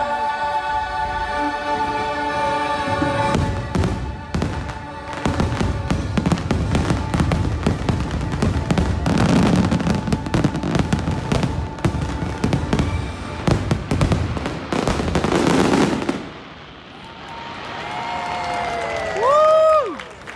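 Fireworks burst at a Disney park during a December evening show, a dense run of pops and crackles under music and crowd noise, ending with some cheering and whistling.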